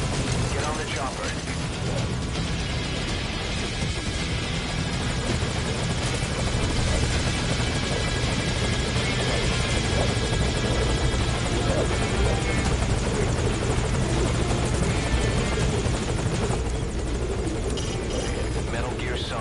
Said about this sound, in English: Get on the chopper.